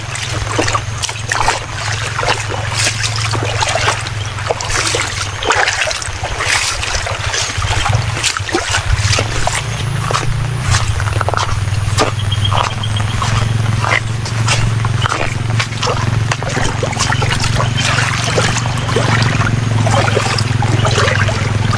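Flood water on a farm rushes and gurgles continuously close by during steady rain, a loud churning flow with splashing crackles throughout and a low steady rumble underneath.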